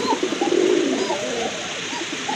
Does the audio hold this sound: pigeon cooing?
yes